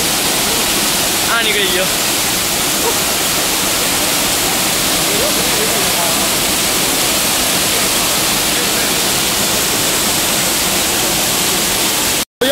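A strong current of flowing water roars continuously and loudly at Jata Shankar during a flood, a dense rushing wash that fills the whole scene while people speak briefly over it.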